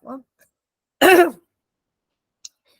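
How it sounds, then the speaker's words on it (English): A single sharp, close cough bursts out after a short vocal sound, followed by quiet and a tiny click. "I've got a very bad cough."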